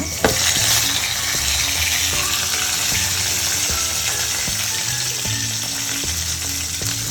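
Onions and tomatoes frying for a fish curry, a steady loud sizzle holding throughout, with occasional soft stirring knocks beneath the hiss and no talk.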